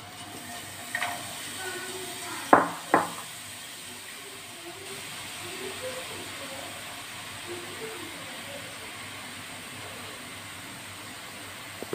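Boondi batter frying in hot oil gives off a faint, steady hiss, broken by a couple of brief clicks and clatters near the start.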